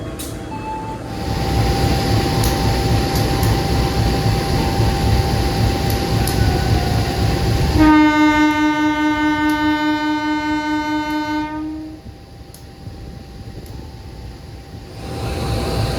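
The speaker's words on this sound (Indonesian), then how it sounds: "Ini berangkat duluan ya teman-teman." A departing passenger train in Indonesia rumbles loudly and steadily close by, its horn blaring in a long sustained blast midway before the rumble eases.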